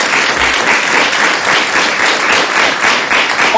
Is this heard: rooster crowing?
no